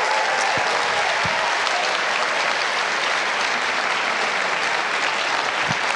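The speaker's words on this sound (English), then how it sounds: "big round of applause for our fabulous sponsors" Audience applause fills an awards show hall, a dense, steady wash of clapping from a large crowd that holds loud and unbroken throughout.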